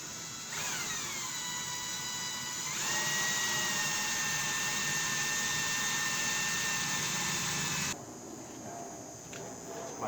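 A power drill boring a pilot hole in a Chevy/GMC pickup tailgate: a close, high whine that spins up, climbs to a sharper steady pitch for several seconds, then cuts off into quiet shop noise.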